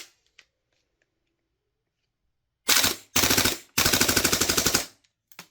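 Tokyo Marui MWS airsoft gun fitted with a Guns Modify Evo bolt fires in sharp, close bursts: a brief burst, then two longer rapid rattling strings after a quiet stretch, with a faint click at the end.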